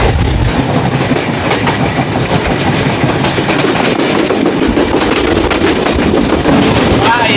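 A Bangladeshi express passenger train running at speed gives a loud, constant rumble with rhythmic clickety-clack from the wheels, heard from inside the carriage with wind noise.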